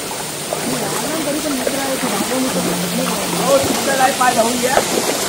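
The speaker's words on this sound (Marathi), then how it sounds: "आम्ही आलोय धबधबा. पण तो मोठा नाही आहे पण छोटा आहे पण पॉवरफुल आहे" A small but powerful waterfall on a trek route near Bhimashankar keeps up a constant loud rushing roar, with people talking over it close by.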